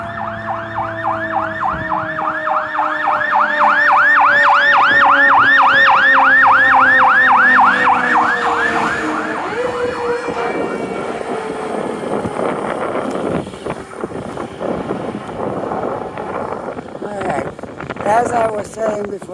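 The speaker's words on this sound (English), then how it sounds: "Fire truck coming." A fire truck siren wails in rapid repeating yelps that rise and fall, loud and close as it passes along a neighbourhood main street, then fades into traffic rumble with street noise behind.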